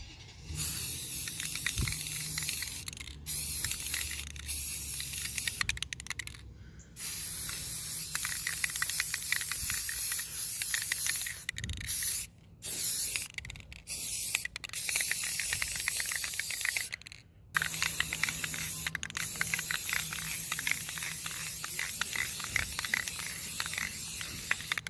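Spray painting a black coat onto a Dodge Sprinter van, long steady hissing bursts from a spray can with a few short breaks, fairly faint and continuous.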